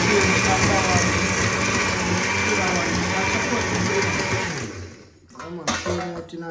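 A small kitchen blender whirs steadily and loudly for about five seconds while food is seasoned at an outdoor riverside cooking yard, then cuts off, leaving brief clatter and handling noises.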